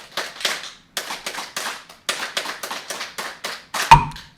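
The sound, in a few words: audience rhythmic 3-3 clapping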